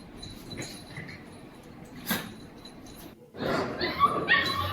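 Five puppies whimper and yip in short, thin bursts at low to moderate level, with a denser flurry of high cries toward the end.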